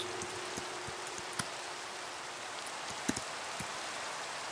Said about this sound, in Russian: Надоел этот дождь, блин.